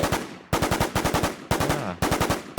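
Rapid automatic M16 rifle fire in the survival shooter WarZ Siam, loud and close, in four quick bursts of evenly spaced shots with short gaps between them.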